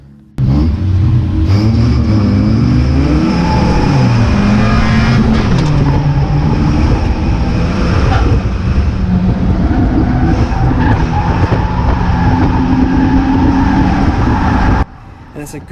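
Race cars powering away at a restart, several engines rising and changing pitch together with tire skid noise, loud and close and continuing for most of the stretch before cutting off abruptly.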